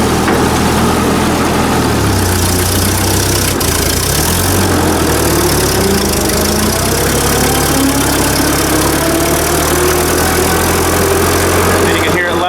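A 1944 Ford 2N tractor engine runs steadily with its governor bypassed, holding a constant throttle with a loud, continuous low drone and shifting harmonic tones throughout, while a voice talks over it.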